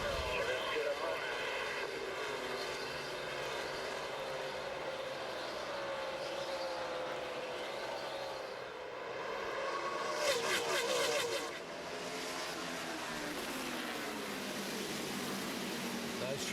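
Chevrolet NASCAR Nextel Cup stock cars, led by Jeff Gordon and Dale Earnhardt Jr., roar as they take the green flag at Richmond in 2007, a loud, sustained massed engine drone with rising pitch that swells briefly near the end, with broadcast talk over it.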